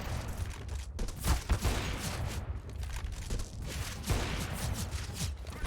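Gunfire in the video game CS:GO comes as bursts of sharp shots and rapid fusillades, mid-distance and fairly dense, mixed with game noise across the whole stretch.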